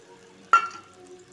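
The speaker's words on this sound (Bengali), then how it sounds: "গরম হয়ে গেলে দিয়ে দেবো 5 ফোড়ন, বেটে রাখা মশলা" Five-spice seeds and ground spice paste dropped into hot oil give one sudden, loud, close sizzle that hisses sharply and then fades within a moment.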